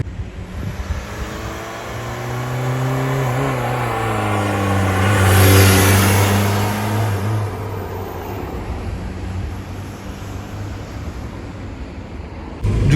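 A VW Golf 3 with a 1.9 TD diesel engine coasts in fourth gear. Its loud, steady drone rises slightly and then sinks in pitch as it rolls, with wind rushing around it. No voices.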